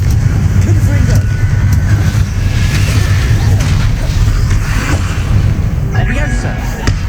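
In the video game Hogwarts Legacy, a Confringo fire spell bursts amid a constant low rumble of game noise, with booming impacts scattered through it and voices in the mix.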